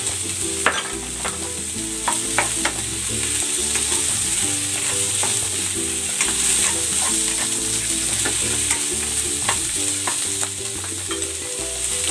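Pork belly and shrimp sizzle and fry steadily in a pan, with a loud continuous crackle and repeated scraping and stirring strokes throughout, no talking.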